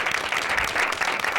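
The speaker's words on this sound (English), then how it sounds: "Round of applause for Leandra Ram." Brief burst of steady, dense audience applause on a late-night talk show, honoring a guest, with no talk over it.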